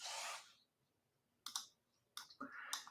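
Typing on a computer keyboard, a few quiet, sparse clicks and short keystroke bursts close by after a brief louder sound at the start, otherwise near silence.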